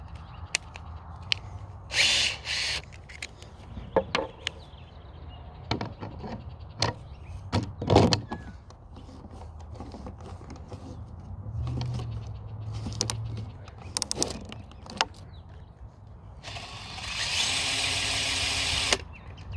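A spin art machine turning a painting gives scattered clicks and handling knocks, then a sustained motor whir near the end.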